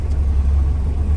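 A 1966 Morris Traveller engine idles steadily just after starting, a low even rumble heard up close with no voices.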